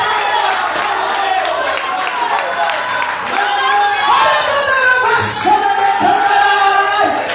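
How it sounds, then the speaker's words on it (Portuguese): A church congregation claps and cheers at an evening service with a woman pastor preaching, a loud, dense crowd roar with whoops running throughout, under and around voices. "Aplaude o nome do Senhor nesta noite"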